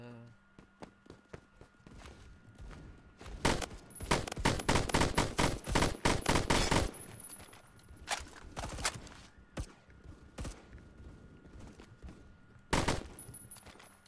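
Rapid bursts of automatic gunfire from the online shooter game Phantom Forces, dense volleys in the middle with scattered single shots and footsteps around them, close and loud.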